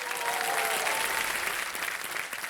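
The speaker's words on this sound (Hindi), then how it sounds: "तालियां बज जाए इनके लिए।" A studio audience at the KBC Under 25 quiz show claps steadily, a dense, even wash of applause that holds at a constant level throughout, with no talking over it.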